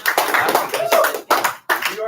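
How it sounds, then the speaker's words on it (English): A burst of audience clapping in a classroom history presentation, dense and close, with voices talking over the applause before it breaks off in short stops. "claps for Lexington and Concord."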